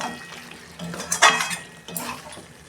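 A metal lid lifted off a pot of mutton curry, a few close clanks and a bright metallic rattle over a soft background sizzle.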